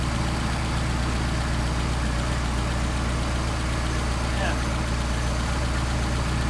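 A Solex moped engine runs steadily after warming up, a loud, constant close-up drone with no change in pitch.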